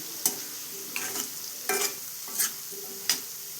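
Pickle gets stirred together with chili powder, giving a handful of short, sharp scrapes and clinks of a spoon against the bowl spaced about half a second apart, close up over a faint sizzling background, with no talking.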